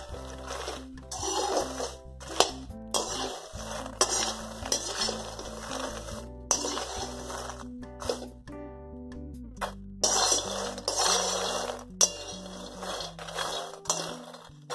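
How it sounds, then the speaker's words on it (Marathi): Makhana fox nuts roasting in ghee in a pan, with repeated clinks and scrapes of a spoon against metal over a faint sizzle, in uneven bursts separated by short pauses, close and fairly loud. "आता ह्यामध्येच मी ह्या तुपामध्ये मखाना भाजून घेते, थोडा खुसखुशीत होईपर्यंत भाजून घेते"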